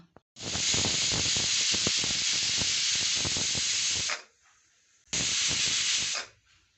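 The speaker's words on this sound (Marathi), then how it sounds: "आता कुकरला झाकण लावून दोन शिट्या काढून घेते" A loud, sustained hiss of steam venting from a pressure cooker whistle, cooking potato-and-pea pulao, for about four seconds, a short pause, then a second burst.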